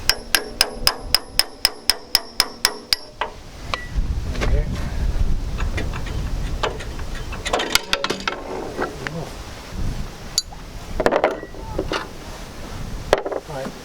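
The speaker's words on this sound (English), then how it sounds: "I'm just using the chisel as a wedge" A hammer strikes a chisel driven as a wedge into a joint on a Land Rover Series 3 under restoration: about a dozen sharp, evenly spaced metallic blows, then scraping, prying knocks and wind rumble.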